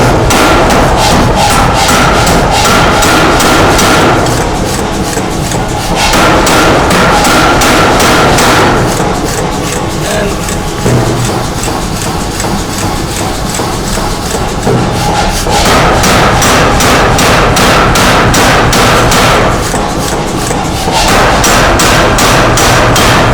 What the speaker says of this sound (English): it's rated as a 600 pound steam hammer